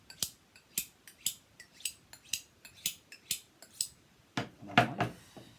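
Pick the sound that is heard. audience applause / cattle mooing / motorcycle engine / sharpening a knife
sharpening a knife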